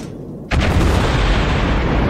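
A single heavy naval gun blast from a Saint Louis class cruiser in World of Warships erupts sharply after a quiet moment, then rolls on as a loud, sustained rumbling boom.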